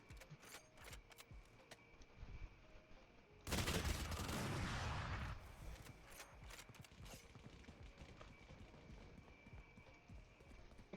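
SMG Bucky fire rattles in quick bursts in a video game. A dense loud volley lasts about two seconds amid lighter rapid clicks and taps before and after.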